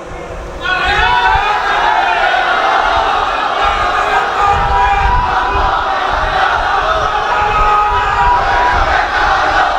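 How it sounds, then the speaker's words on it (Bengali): Large crowd at an Islamic religious gathering loudly chanting a slogan in unison, a dense roar of many voices that swells after a brief quieter start and holds steady and near throughout. "এখানে একটা জোরে স্লোগান দেন"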